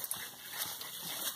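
Dog digging at a tegu lizard's burrow lets out soft, high, thin whimpers, close by and fairly quiet, with faint scraping and rustling from the digging underneath.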